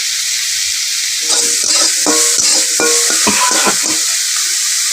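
Prawns frying in a wok for a Bengali chingri and ol-leaf paste dish, a steady loud sizzle with bursts of stirring and scraping against the pan, no voices.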